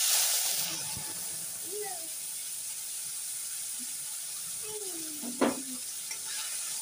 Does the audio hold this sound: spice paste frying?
yes